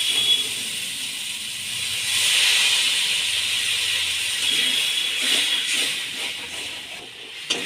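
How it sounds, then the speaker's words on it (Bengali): Water hits a hot pan of fried potatoes and spices, giving a broad, steady steaming hiss that swells near the start and holds throughout, with faint scraping from stirring underneath. "ভালো করে নেড়ে আমি এবার জল ঢেলে দেব।"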